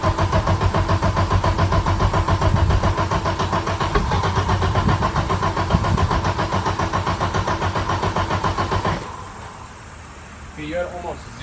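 A 1991 Audi 90 Quattro S2 with a big turbo engine cranks over, a loud, steady rapid chugging that runs continuously for about nine seconds and then stops, leaving quieter background noise with faint voices.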